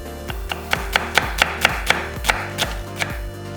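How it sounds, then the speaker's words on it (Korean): Knife chopping onion into thick strips on a cutting board, about a dozen steady, evenly spaced thuds, close and clear with no talking. "양파 4분의 3개는 살짝 굵게 채 썰고"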